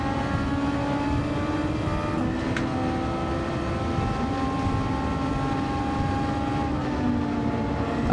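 Race car engine in Gran Turismo 7 online lobby racing, a steady loud droning roar with sustained tonal whine held throughout, no talking.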